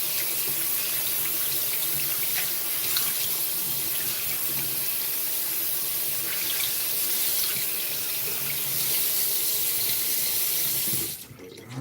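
Water runs steadily from a tap into a sink as a constant loud rushing hiss, shutting off abruptly near the end.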